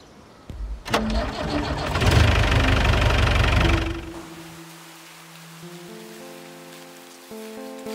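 A vehicle engine cranks and catches, then roars loudly for a few seconds before dropping away as the vehicle drives off, leaving a lower steady hum and faint tones with no talking.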